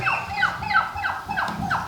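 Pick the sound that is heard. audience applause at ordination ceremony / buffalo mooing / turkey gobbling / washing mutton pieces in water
turkey gobbling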